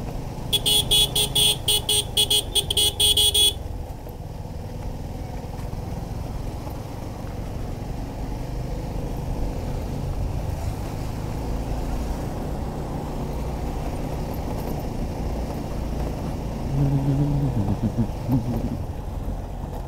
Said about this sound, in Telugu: కార్లు వస్తూనే ఉన్నాయి